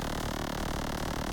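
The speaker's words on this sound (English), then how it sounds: "So the oscillator naturally sounds like this." A single synthesizer oscillator drones with a steady buzzing tone, unchanging and moderately quiet, heard alone.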